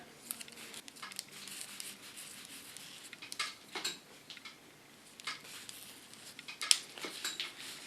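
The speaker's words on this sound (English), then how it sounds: "You can hear the hissing of the blade." Faint, scratchy scraping from a razor blade cutting hair comes in short irregular strokes, a fine hissy cutting sound close by with occasional sharper ticks and no talking.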